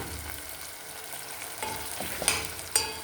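Ingredients for Tunisian mechakchek fry in a pan with a constant close hiss and sizzle. A few louder pops and spatters come near the end, and no one speaks.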